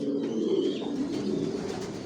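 Racing pigeons coo steadily inside a loft, a low, continuous murmur of overlapping calls from several birds close by, with no other sounds.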